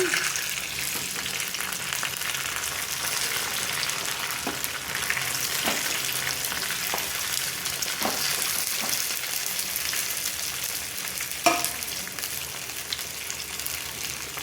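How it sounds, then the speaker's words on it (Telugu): Stuffed brinjals fry with onions in a pan, a steady, moderate sizzle broken by occasional soft utensil knocks, close by and with no talking. "ఉల్లిపాయలు ఇలా బాగా ఫ్రై అయ్యాక దీనిలోకి మనం ముందుగా కారం పక్క పెట్టి పక్కన పెట్టుకున్న వంకాయలను వేసుకోవాలి"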